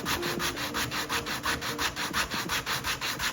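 An 80 grit sanding sponge works back and forth over the wooden body of a jazz guitar kit, giving a steady rhythm of close, raspy scrubbing strokes, about five per second, with no talk.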